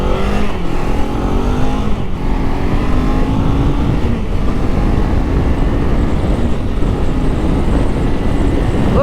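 Kawasaki Z500 roadster motorcycle launching from a standstill up to 100 km/h, loud close engine howl climbing through rising pitch sweeps with quick dips at each gear change, steady and continuous with no talk.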